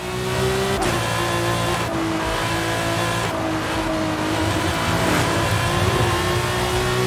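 A Tej Fury car in a racing video game on the Goliath track, its engine revving loud and steady with rising and falling pitch through gear changes, faint tire noise beneath, no talking.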